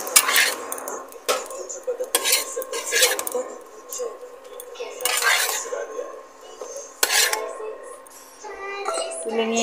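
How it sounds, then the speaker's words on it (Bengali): Fried eggs are lifted from a pan with a metal utensil, making close, repeated scrapes and clinks of cookware, with some talk in the background. "ডিম ভাজা হয়ে গেছে, আমি তুলে নেব।"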